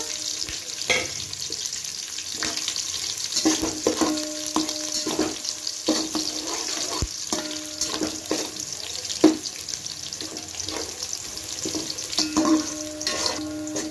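Bay leaves stirred and fried in hot oil for Hyderabadi bagara rice, with a steady close sizzle broken by repeated scraping strokes of a spoon across the pan.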